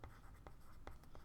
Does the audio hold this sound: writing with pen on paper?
yes